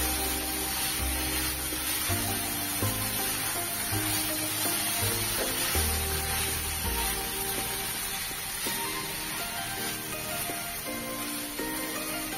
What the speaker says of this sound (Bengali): তেল ছেড়ে আসলে দিয়ে দিতে হবে ভেজে রাখা আলু বরবটিগুলো, দিয়ে একটু নেড়ে চেড়ে নিতে হবে।